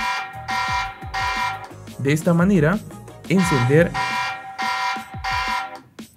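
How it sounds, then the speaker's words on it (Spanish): A TP-Link Tapo C310 outdoor security camera sounds its alarm siren, a loud repeating wailing tone that rises and falls in bursts, with someone talking over parts of it. "encender lo que es la alarma que hemos podido habilitar"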